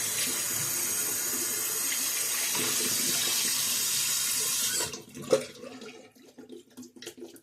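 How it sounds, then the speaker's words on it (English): Tap water runs steadily to rinse out a shaving bowl after using a bronze razor, a loud continuous splashing stream that stops partway through, leaving small clinks and drips. "So now we rinse out my bowl."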